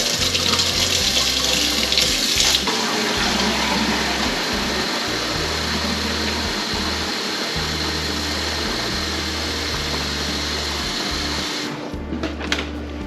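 Lukewarm tap water runs steadily into a gallon jug at a kitchen sink, a loud continuous splashing rush with low gurgling pulses as the jug fills, easing off near the end.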